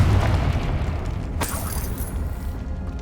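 A Confringo blasting spell explodes in Hogwarts Legacy: one sharp, loud burst lands near the middle over a constant low rumble of game ambience.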